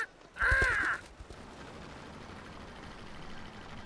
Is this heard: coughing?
no